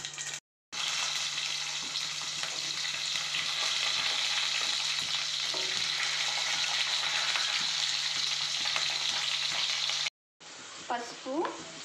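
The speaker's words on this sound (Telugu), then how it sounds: "ఇప్పుడు కడాయిలో ఆయిల్ పోసుకొని తాలింపు కోసం కూరగాయలు వేసుకోవాలి" Cumin and mustard seeds tempering in hot oil in a kadai for sambar, a loud continuous close sizzle and crackle lasting about ten seconds, cut off abruptly, followed by brief faint sounds.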